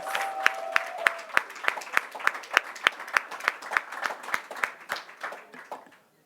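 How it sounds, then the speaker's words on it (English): An audience at a leadership academy graduation ceremony in Miami claps in a steady round of applause, with distinct individual claps audible over about six seconds before it stops abruptly. "another round of applause for our amazing speakers."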